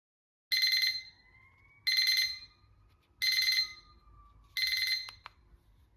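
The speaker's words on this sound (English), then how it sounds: "The timer has a typical timer beep to it" An XREXS digital wall clock timer beeps in four evenly spaced, sharp bursts about a second and a half apart, each a quick cluster of shrill electronic tones, loud and close in a quiet room.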